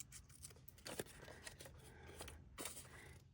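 Scissors trim the top edge of a strip of paper tickets, a few close, crisp snips and rustling paper cuts with short pauses between them.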